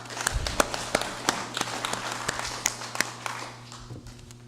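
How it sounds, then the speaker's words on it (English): Scattered hand claps from a small group in a legislative session, sparse and uneven rather than a full ovation, fading toward the end. "Let us please give a round of applause."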